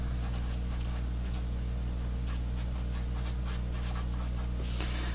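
An equation for energy in a dielectric system is written out by hand, with short scratchy strokes in quick irregular bursts over a constant low electrical hum.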